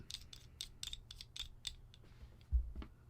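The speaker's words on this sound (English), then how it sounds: "Put the recoil spring assembly." A Glock 19 Gen 5 pistol with its recoil spring assembly being reinstalled gives off a string of small, close metallic clicks and scrapes, then a firmer clack near the end, with no talk.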